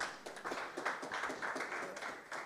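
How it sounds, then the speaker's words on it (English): An audience applauds at a business clinic event: quiet, fairly distant clapping with a loose, rhythmic patter of overlapping hand claps that rises and falls over a couple of seconds. "Let's give yourself another round of applause."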